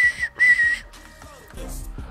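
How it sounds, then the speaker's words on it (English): A referee's whistle in a basketball video game gives two short, shrill blasts, followed by quieter game sounds with no talking. "Blow the whistle."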